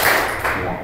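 Children clapping in a counted clapping game, a quick run of hand claps in a brief burst, fairly close and loud.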